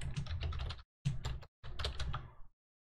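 Someone types a passphrase on a computer keyboard in three quick bursts of close, crisp key clicks separated by short pauses, with no talk.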